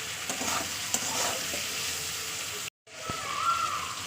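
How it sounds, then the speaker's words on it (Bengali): Potato pieces sauté and sizzle in hot oil with spices while a spoon stirs through them, a steady close frying hiss broken by a brief cut before the sizzling resumes. "এইভাবে আলুটা আগে কষিয়ে নিই মশলা দিয়ে"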